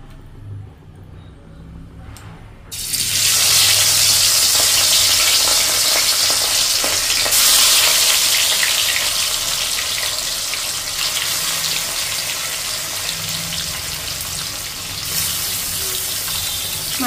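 Katla fish slides into hot oil in a kadai, with a quiet start giving way to a sudden loud, hissing sizzle that stays strong and steady, close up.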